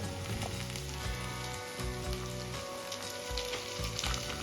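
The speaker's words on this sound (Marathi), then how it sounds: "कांदा आणि हिरवी मिरची छान परतून झालेली आहे आता या स्टेजला कढीपत्ता ऍड करून घेऊया" Curry leaves sizzling in hot oil with onion and green chili, a dense, loud continuous crackle that fills the whole stretch without any talk.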